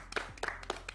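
A group of friends on a summer trip to Bali claps briefly: a few quick, faint, scattered hand claps in close succession, with no talking.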